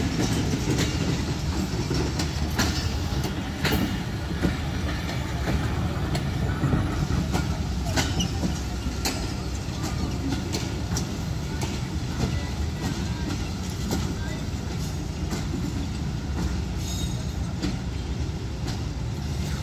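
The Khyber Mail 2DN express pulls into Lahore station from Peshawar, bound for Karachi, with a loud continuous rumble of rolling coaches and repeated clickety-clack wheel beats over rail joints, close by.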